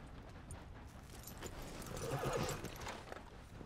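Horse in Red Dead Redemption 2 arriving at a house: steady clip-clop of hooves close by, with a whinny and snort rising near the middle, over faint ambient background.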